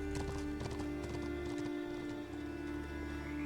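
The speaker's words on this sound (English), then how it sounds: "Oh, it's a deer. I was like, why am I hearing a horse?" Deer hooves clopping like a horse in the video game The Talos Principle 2, a clear run of hoofbeats over a steady droning game ambience, moderately close and then fading.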